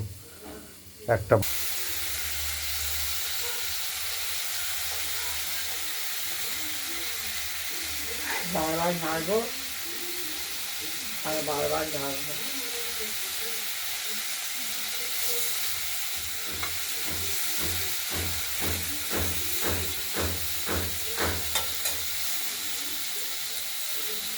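Poppy seed paste cooks in a pan with a steady, close hiss and sizzle throughout, broken by a sharp clatter near the start, with bursts of talking and rhythmic stirring taps toward the end.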